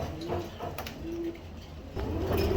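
Racing pigeons in a room, including a male let loose indoors, give soft, faint low coos in short bursts against a quiet background.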